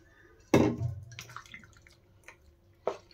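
Water is poured into a bowl of rice flour batter for chitui pitha, with one loud splash at the start, a brief trickle and drips after it, and a second short splash near the end.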